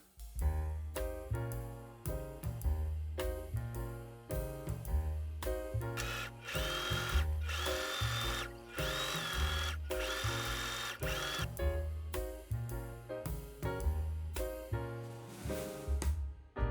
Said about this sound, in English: I'm going to sew this edge with 1/2 inch seam allowance